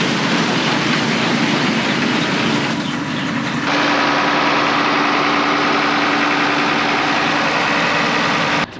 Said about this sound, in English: Right now, we got the tractor hooked up to the auger